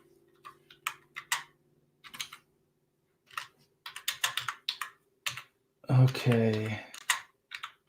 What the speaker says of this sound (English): Maybe I should type it in.